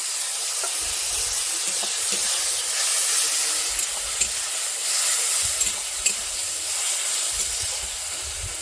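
Ground tomato paste frying with onions in a pan for a Bengali bhola fish curry gives a steady sizzling hiss with occasional stirring scrapes, close and continuous, with no talking.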